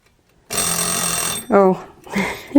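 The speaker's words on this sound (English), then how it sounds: "The old school egg timer." An old-school egg timer rings with a loud, sustained metallic bell for about a second after a silent start, followed by a person speaking.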